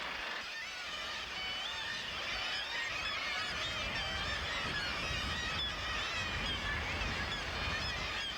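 A dense seabird colony of gannets at the bird rock of Cape St. Mary's, Newfoundland, calling continuously in a loud, harsh, overlapping clamor that fills the air without a break.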